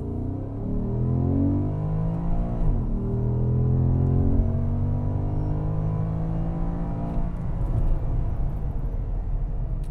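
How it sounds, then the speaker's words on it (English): A 2013 Porsche Panamera GTS accelerating on a test drive, its exhaust giving a deep, rising drone heard from inside the car, climbing through gears with a brief shift dip, steady and moderately loud throughout. "Great exhaust note coming out."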